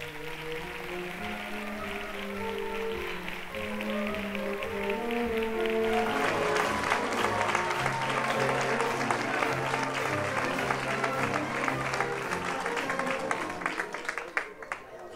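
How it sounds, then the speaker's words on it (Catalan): A crowd at a falla event in Valencia gives strong applause for the commission president. Steady clapping swells and stays thick over tonal music, with voices mixed in. "Rebem en un fort aplaudiment a Manolo Márquez Pedro, president d'esta gran comissió."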